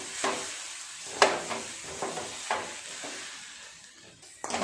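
Bread crumbs are stirred into a vegetable chop mixture in a pan, with soft sizzling under intermittent scraping strokes and several sharper clacks of the spoon against the pan.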